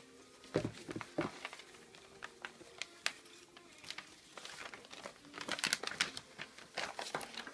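Scissors snip and slide across wrapping paper, giving quiet, irregular crinkling and short cutting strokes close by.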